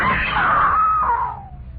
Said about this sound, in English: I screamed.